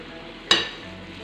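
Fried prawns dropped into boiling coconut milk in a pan give one short burst of sizzle and splash, which fades quickly into low kitchen background.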